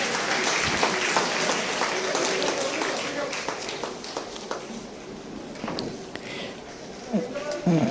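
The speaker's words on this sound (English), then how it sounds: "Please give him a round of applause." Audience applause at an award ceremony at a temple festival, a dense steady crowd clapping that holds for several seconds with scattered voices mixed in.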